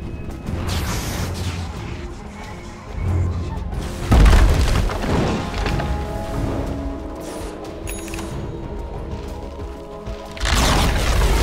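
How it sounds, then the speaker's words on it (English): A Radiant middle tower is destroyed in a Dota 2 match at The International 2024: a loud boom and crash rise over a busy bed of clanking, gear-like mechanical game effects, with a second heavy burst near the end. "Radiant's middle tower has fallen."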